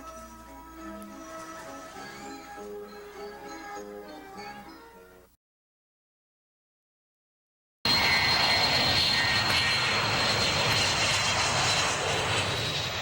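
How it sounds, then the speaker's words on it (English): An airplane engine roars steadily and loudly at an airport where aircraft take off and land, a continuous broad drone heard after a quieter passage with music-like tones and a short silent gap. "Airplanes take off and land."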